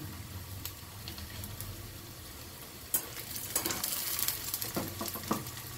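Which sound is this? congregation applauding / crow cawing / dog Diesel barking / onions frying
onions frying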